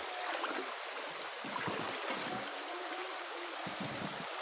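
A river flowing steadily in a scenic outdoor spot, a constant broadband rush of water with no break, moderately faint and heard alone.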